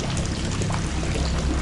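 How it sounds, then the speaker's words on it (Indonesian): Sea water gushes steadily into a hole in a ship's hull, a dense, continuous rushing pour that stays close and loud throughout, with no voices. "Air laut semakin deras memasuki lubang kapal."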